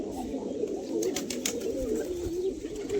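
Pigeons at a friend's house coo in a steady, overlapping low burble, close and continuous with a few faint clicks and no voices over it.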